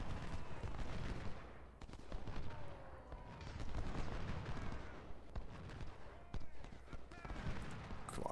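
Artillery and musket fire in the Ultimate General: Civil War game at Parker's Crossroads, with dense overlapping gunshots and booms forming a continuous battle din across the whole stretch, sharp cracks standing out now and then.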